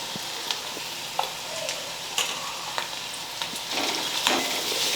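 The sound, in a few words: onions frying in a pan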